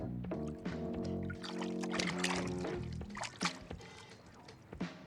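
Lemon and lime juice pours into a pot of water for a lemon meringue pie filling, a close liquid splash and trickle with a few sharp clinks, no talking.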